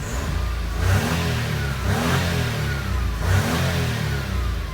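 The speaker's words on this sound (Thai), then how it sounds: "เดี๋ยวผมจะทำการเร่งเครื่องนะครับ" A Nissan March car engine revs repeatedly, about three or four swells in pitch and loudness, then falls back toward idle between each.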